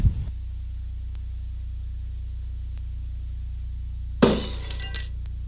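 In the Mad Dog McCree laserdisc shooting game, a glass bottle shot by a gunshot bursts into a single loud, bright shatter late in the clip, with glass fragments trailing off over a low, steady hum.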